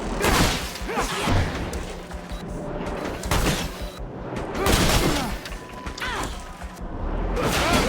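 Gunfire and crashing impacts fill a combat scene in the video game The Technomancer, with dense repeated bursts and loud smashes continuing throughout and no talk over them.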